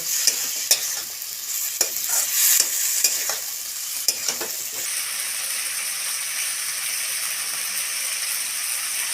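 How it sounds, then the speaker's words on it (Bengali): Malabar spinach sautéing in a pan hisses and sizzles steadily, with stirring scrapes and taps over the first few seconds, then a smooth, even sizzle alone, close and fairly loud. "এই পুঁইটা দিয়ে এটা খুব ভালো করে কষিয়ে নেব"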